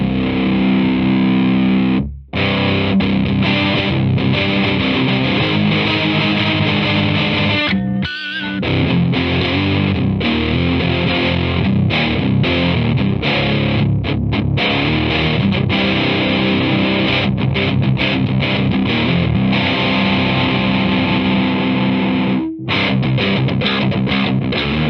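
A Fender Metal Distortion pedal through a Fender Hot Rod Deluxe amp gives a loud, dense, saturated guitar roar. Thick chords and riffs play continuously with only a few brief gaps.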